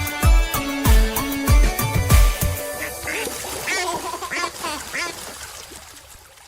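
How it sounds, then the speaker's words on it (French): A run of loud quacks from a duck, repeated in a quick rhythm over a music-like backing, then fainter bird-like calls trailing off. "Maman canard dit quoi, quoi, quoi, quoi"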